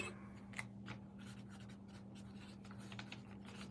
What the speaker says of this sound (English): Let me write your name on here.